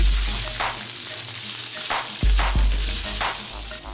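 Chicken pieces frying lightly in a pan, a loud dense sizzle with low bubbling rumble and a few sharp knocks of a spoon against the pan, no speech.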